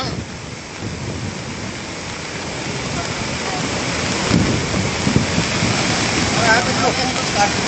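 Water rushes through a dam that is filled almost to the top, a broad, continuous roar that grows slightly louder and rougher partway through.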